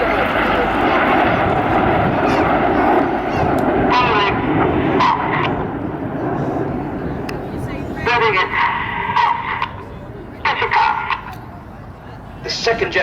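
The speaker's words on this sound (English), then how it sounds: "So this is Concorde." Concorde jet airliner at the Farnborough Airshow, its engines giving a loud, steady roar that swells and fades as it flies past with the Red Arrows, while a commentator talks over it throughout.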